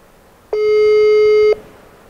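A telephone busy signal during a call: a single loud, steady electronic tone lasting about a second, starting and stopping abruptly, with nothing else around it.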